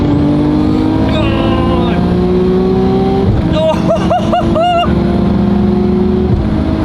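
A 700+ hp Nissan R33 Skyline GTR pulls hard in third gear with flat-foot paddle shifts and no clutch. The engine note rises loudly and steadily, breaks into a stuttering cut at the shift, then climbs again, heard from inside the car.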